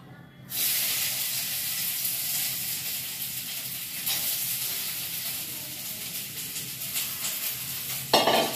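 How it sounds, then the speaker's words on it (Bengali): Onions sizzle and hiss steadily in a hot pan beside fried dried red chillies, a continuous close frying crackle with occasional stirring scrapes and a brief louder clatter at the end. "পেঁয়াজগুলো ভেজে নিই।"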